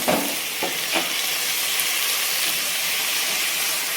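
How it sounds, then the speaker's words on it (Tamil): Tomatoes tipped into sizzling biryani masala in a pan, a loud frying hiss with a few stirring scrapes near the start, then steady crackling sizzle, close and without talk. "இப்போ தக்காளி சேர்த்துக்கலாம்."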